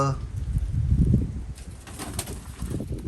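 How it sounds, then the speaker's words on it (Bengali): Pigeons coo in low, throaty bursts close by, with a soft flutter of wings and light background noise. "এক জোড়া না অনেকগুলো কবুতর ভেতরে অনেকগুলো কবুতর"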